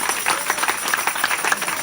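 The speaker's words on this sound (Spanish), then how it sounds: "Qué fuerte ese aplauso al que merece toda la gloria" Congregation applauding during a Spanish-language church sermon on baptism, a steady dense clapping wash with no voices over it.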